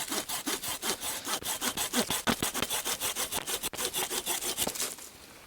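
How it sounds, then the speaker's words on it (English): A sharp Silky pruning saw cuts through wood in quick, even back-and-forth strokes, a rasping rhythm of about two dozen close, loud pulls that eases off at the end. "if you're sawing with a sharp silky saw or small pruning saw"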